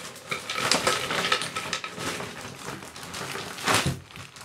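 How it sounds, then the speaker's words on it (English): Ice cubes tumbling into a large plastic bag, heard up close as clattering, crunching knocks with a louder burst near the end and no voices. "in there will go some ice"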